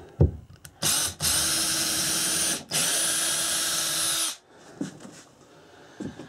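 A power drill bores through drywall into a wooden stud in two loud, sustained bursts with a brief pause between, followed by light handling knocks.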